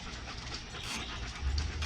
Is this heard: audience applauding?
no